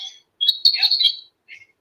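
A high electronic ringing tone, like a phone or alarm, sounds in one bright burst of about a second, followed by a brief, fainter chirp. It stands out clearly against near silence.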